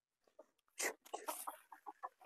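Rhode Island Red chickens clucking as they come out of their coop, a few faint clucks then a louder burst of squawks and clucking close by.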